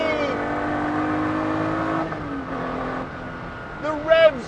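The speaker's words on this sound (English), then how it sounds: "V12 singing out in front of me" A Ferrari 250 SWB restomod's V12 engine sings steadily at high revs with rising harmonic tones, then eases off before a brief sharp rev climb near the end, with a voice talking over it.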